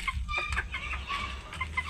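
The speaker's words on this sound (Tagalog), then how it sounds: "Ito na lang natirang manok natin." Backyard chickens cluck in short, soft, repeated calls, heard faint and close-by with no talk over them.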